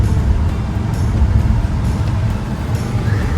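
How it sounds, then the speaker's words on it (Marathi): An electric car driving on a road gives a steady, low rumble of tire and road noise from inside the cabin, continuous and fairly loud with no engine note. "इलेक्ट्रिक कार चालवणार आहे बरं बघू आता"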